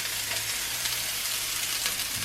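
Bread slices set into a hot cast iron pan for a grilled cheese bun burger, giving a steady, close frying sizzle with a soft hiss throughout.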